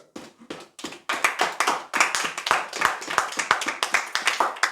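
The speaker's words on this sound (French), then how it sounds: "On acclame fort la parole du Seigneur." A church congregation applauding loudly: a sparse few claps at first, then a dense, fairly rhythmic burst of hand clapping that carries on steadily to the end.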